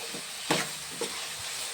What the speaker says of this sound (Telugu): పచ్చిమిరకాయలు వేస్తున్నాయండి.